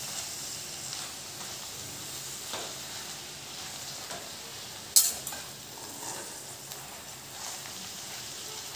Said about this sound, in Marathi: गॅस फास्ट ठेवायचा आणि हलवायची